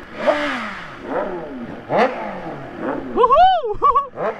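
Three motorbikes, among them a BMW S1000RR superbike, revving as they ride out. There are several rising and falling engine revs, then sharper high-pitched rev bursts near the end, fairly close and loud.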